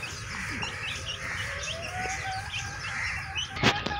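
Small birds swoop down near chicks on a small home farm, with bright chirps and tweets scattered throughout, a background hum beneath, and a brief, close burst of wing flapping near the end.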